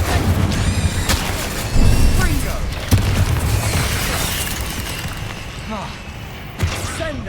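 Spells burst in Hogwarts Legacy combat, with loud booms, shattering crashes and thuds striking one after another over a dense, continuous din of battle.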